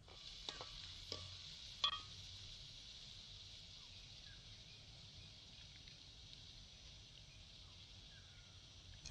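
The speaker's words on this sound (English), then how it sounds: "we're going to be frying these up first to incorporate the flavors" Curry leaves and spices frying in a pan for a fish curry, a steady low sizzle throughout with a few sharp clinks and pops near the start, fairly quiet and close.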